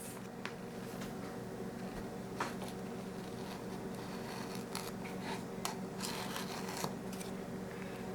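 Light scraping and rubbing as a spoon of baking soda is leveled off against the container's built-in leveler in a home kitchen, several soft brief rasps over a quiet background.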